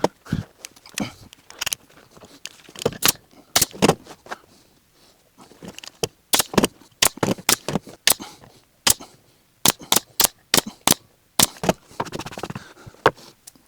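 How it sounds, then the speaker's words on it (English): A staple gun fires sharp, separate snaps as upholstery fabric is fixed onto the bottom of a box for a Land Rover Defender centre console, the bursts irregular and close. "I will cover the box bottom first. So I'm just going to staple this into place."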